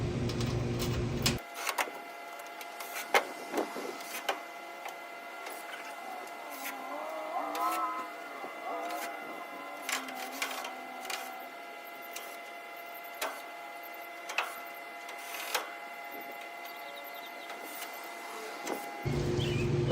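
A power driver set to low torque drives screws into the metal casing of an air conditioner to close it up. It gives close, repeated short whirs and ticking clicks over a steady mechanical drone, with no voices.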